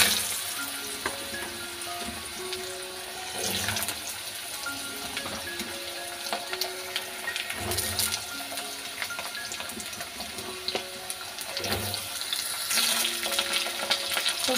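Cut potatoes fry in hot oil with nigella seeds, a steady, fairly quiet sizzle that sounds almost watery, over a soft continuous tonal background with occasional light clinks.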